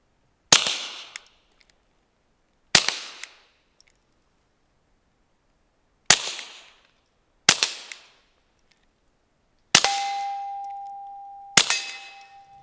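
Six sharp shots from a Taurus TX22 .22 pistol, spaced irregularly a few seconds apart, each with a bright metallic crack and short ring-out, the last two close together.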